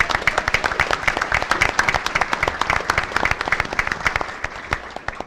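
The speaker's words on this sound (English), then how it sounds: "Let's give them a round of applause." Warm applause from a crowd at a 2018 State of the Community Breakfast, honoring the Jones Onslow staff; dense, steady clapping throughout that thins and fades toward the end.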